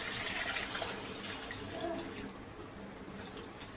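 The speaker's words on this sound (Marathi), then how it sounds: "त्याच्यामध्ये आपल्याला पाणी टाकायचं आहे" Water pours steadily into a pot of sweet potatoes for boiling, a continuous close splashing gush that softens slightly toward the end.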